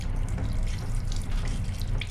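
A water tap runs steadily in the compact toilet of a Voyager high-speed train, a continuous close splashing stream with a low rumble of the moving train underneath.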